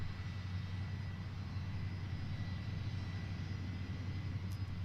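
A private jet departs from Boeing Field with a steady, distant engine roar and a faint high whine, holding at a constant level throughout with no talk.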